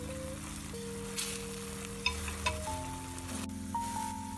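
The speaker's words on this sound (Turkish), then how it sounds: "İçine kalan 2 kaşık sıvı yağ ekledim, kızdırdım ve domatesleri içine bıraktım" Tomatoes sizzle steadily in hot vegetable oil in a pan, a soft continuous frying hiss with faint occasional clinks and a low background hum, no talking.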